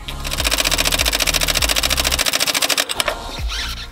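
A power tool hammers away at bolts on a Tatra truck during disassembly, a loud rapid rattling buzz with a steady pulsing rhythm that cuts out near the end, followed by lower mechanical noise.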